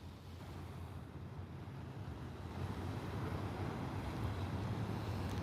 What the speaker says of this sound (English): with the sound of the ocean